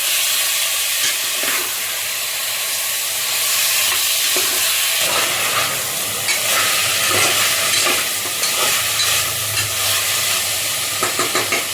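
Mutton is stir-fried in hot spiced oil in a pan, making a loud, steady sizzle with repeated scraping and stirring strokes and a few quick clatters near the end, with no speech.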